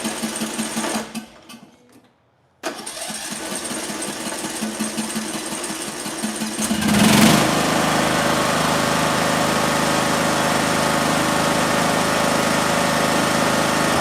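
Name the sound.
small engine running after choke, barely running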